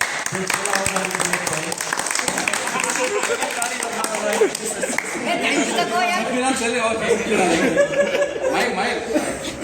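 An audience at an honour ceremony applauds and chatters with scattered laughter. The clapping is dense and continuous throughout, with voices mixed in.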